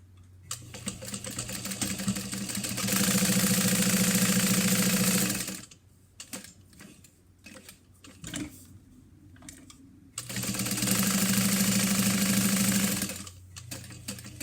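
A sewing machine stitches a quarter-inch seam around a fabric cash card mini wallet in two loud, fast, steady runs, separated by a few seconds of quieter handling clicks and fabric adjustments.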